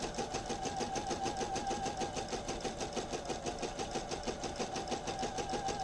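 A sewing machine runs slowly and steadily, stitching along the raw edge of pants fabric, its needle giving a continuous rapid rhythmic whir at close range with no talking.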